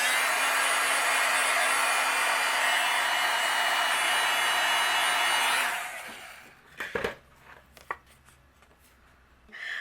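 A heat tool blows a loud, steady whooshing roar while melting white embossing powder on a card, cutting off after about six seconds and followed by a few clacks and handling sounds nearby.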